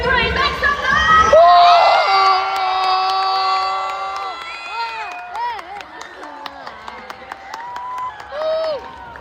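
A live esports event crowd at the FFCS Pro-Am erupts in loud cheering, shouting and high whoops, a dense, sustained roar that gradually thins into scattered shouts and claps.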